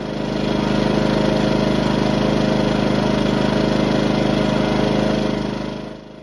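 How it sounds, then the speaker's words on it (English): A Ryobi portable inverter generator, recently repaired after an overload fault, runs steadily and loud at a constant engine drone with no talk, easing slightly near the end. "We can hear the engine running smoother than earlier."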